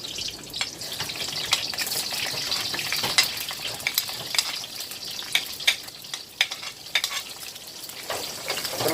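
Sliced onions sautéing in hot oil for pinakbet hiss in a continuous close sizzle, broken by frequent spatula scrapes and clinks against the pan, with no talking.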